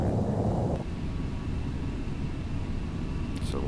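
A Boeing 747 on approach to Hong Kong in Flight Simulator X gives off a steady, low engine rumble, faint and continuous, with no talking.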